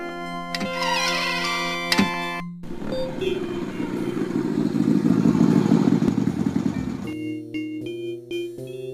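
Motorcycle engine in the video game Dark Seed 2, a mid-pitched running and revving roar that swells for several seconds between tonal game music and effects.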